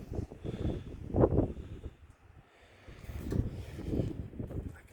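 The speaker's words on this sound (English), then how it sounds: "it's pretty windy out here right now" Gusty wind buffets the microphone outdoors beside a 1998 GMC Sierra K1500 pickup, rumbling in two loud swells with a lull between them, no talking heard.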